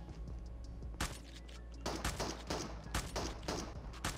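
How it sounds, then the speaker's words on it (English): Shotgun blasts in Call of Duty Mobile, several heavy booming shots spaced roughly a second apart over a steady background hum, loud and close with no talking. "Let me shotgun this boy."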